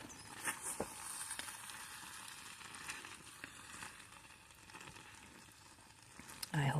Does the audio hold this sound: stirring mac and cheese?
yes